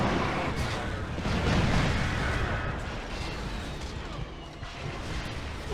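Bombs explode in Resistance 3, giving a continuous rumbling barrage of deep booms and crackling bursts at moderate loudness, with a heavier swell near the middle.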